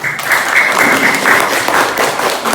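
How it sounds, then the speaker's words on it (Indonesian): An audience claps after a group's class presentation, a steady round of applause that holds fairly loud and even across the whole stretch with no talking over it. "Kita kasih tepuk tangan."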